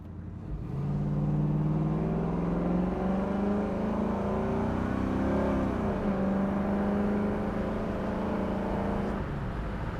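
A 1968 Chevrolet Camaro Z28 engine runs close by, a deep steady idle rising into a smooth rev that swells and falls back, loud and alone.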